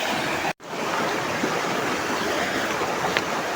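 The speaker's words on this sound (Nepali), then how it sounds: "हाम्रो गाउँको खोला चाहिँ यस्तै छ" A village river rushes in a steady, loud wash of flowing water that fills the whole stretch, broken only by a brief dropout near the start, with no voices.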